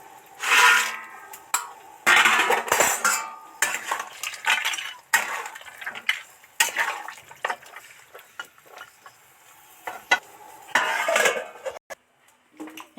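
Lentil bori dumplings dropped into a pot of boiling water for a village-style mixed vegetable curry, then a metal lid set on top; clattering clinks and scrapes of metal cookware in several separate bursts, close and fairly loud.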